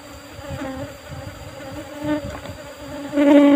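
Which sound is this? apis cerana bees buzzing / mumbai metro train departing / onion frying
apis cerana bees buzzing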